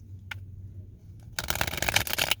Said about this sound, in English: So let me give a good shuffle here.